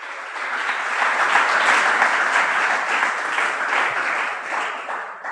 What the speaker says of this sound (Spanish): ¿Le puede dar un aplauso al Señor, por favor?